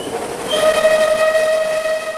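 Clan Line steam locomotive climbing towards Folkestone sounds a sustained, loud whistle over the rumble of the moving train, heard close and alone.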